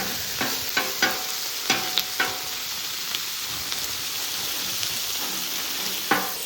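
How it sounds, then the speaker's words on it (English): Onion and pepper sauté on an outdoor grill in a steady, close sizzle, broken by several sharp utensil taps and scrapes against the cooking surface, with no voices. "So you got the onion sauteing, pepper sauteing over here on the side still."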